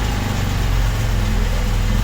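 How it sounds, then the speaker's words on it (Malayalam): A boat's motor drones loud and close on the Poovar Island estuary, a steady, unbroken engine hum filling the whole moment with no voices. "വേറെ ബോട്ട് വരുന്നുണ്ടല്ലോ."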